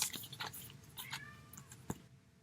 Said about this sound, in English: my cat just yelled at me